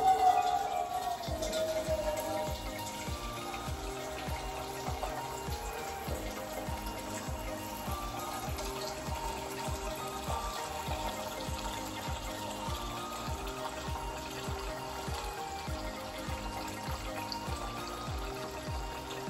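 A kitchen tap runs steadily to fill a pet's water bowl with cold water, a continuous close trickling stream with no talking.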